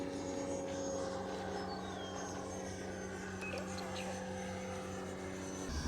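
An 80mm FMS Dassault Rafale RC electric ducted-fan jet model flies past steadily, its ducted-fan whine holding a continuous, even drone from start to finish at moderate distance.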